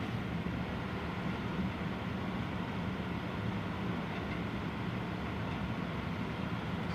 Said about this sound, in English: So the noise you hear now is the blower on the bottom down here.